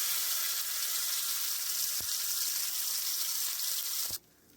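Ground spice paste hisses and sizzles steadily in hot oil in a home kitchen pan, a dense continuous fry with a couple of faint clicks, cutting off abruptly near the end.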